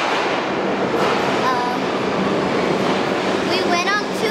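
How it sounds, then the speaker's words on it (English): A New York City subway train rumbling and rattling along the rails, loud and continuous, with faint squeals near the end and people talking over it. "Show them the subway."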